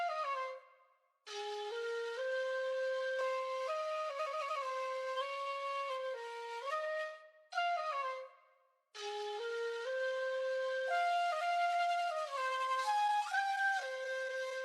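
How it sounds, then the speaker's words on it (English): Sampled xiao flute phrases from the Kontakt Ethnic Series library, laid out as a pattern of breathy sustained melodic lines and gliding notes, played alone in several phrases separated by short silences. "I just laid down this pattern and it sounds like this."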